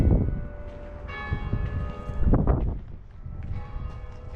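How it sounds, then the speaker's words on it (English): Church bells of St. Philip's chime from the steeple outdoors, resonant tolls ringing out over rumbling wind and low ambient noise. "The beautiful church bells of, I believe, St. Philip's right now are chiming"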